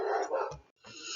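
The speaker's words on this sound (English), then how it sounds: "Sorry about the barking in the background." A dog barks and growls in the background with a brief loud burst, a short silent gap, then further muffled canine noise; no speech is heard.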